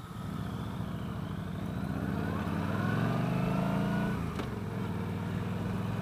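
A 2015 Star V Star 1300 Deluxe cruiser motorcycle pulls away in first gear, its engine note rising steadily and loudly over a few seconds before easing off as it settles.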